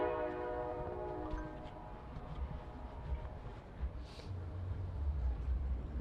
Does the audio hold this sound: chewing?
no